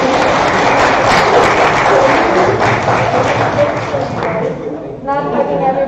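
Audience applause at an ESN Lithuania event, a dense burst of steady clapping from a crowd that fades out near the end, with a voice speaking over and after it.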